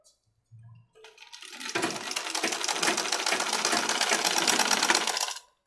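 A sewing machine stitches men's underwear fabric, opening with a few soft clicks and handling noises before settling into a loud, steady run of rapid needle chatter that stops abruptly.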